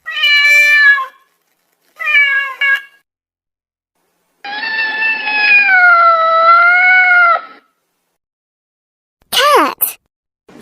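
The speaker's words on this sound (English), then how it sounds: "Cat." A cat meows several times with a gap between each call: two short mews, then a long drawn-out wail, then a quick high cry at the end. The calls are loud, close and alone.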